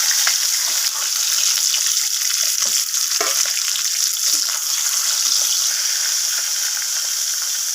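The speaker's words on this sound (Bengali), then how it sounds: "তো আমি বাকি মাছগুলোকেও একইভাবে ভেজে নেব।" Bata fish frying in hot oil in a pan, a loud, dense, unbroken sizzle with a few soft knocks from the spatula, close up and without speech.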